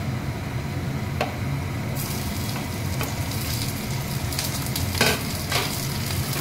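Capsicum frying with already-browned onions in a pan while making masala paneer: a loud, steady hissing sizzle with occasional stirring scrapes and taps, no talking.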